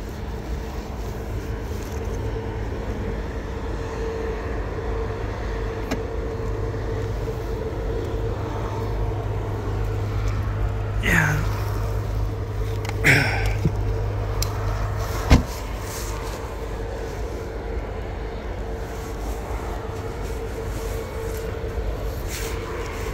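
A car engine idling steadily as it warms up outdoors, a low constant rumble with a faint hum, brief clicks and a passing higher whine, no talking.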